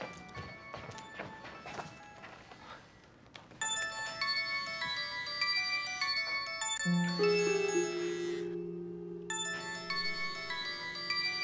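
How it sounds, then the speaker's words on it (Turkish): An electronic phone ringtone chimes in repeated melodic bursts with brief gaps between them, clear and moderately loud. "Gamze, telefon çalıyor."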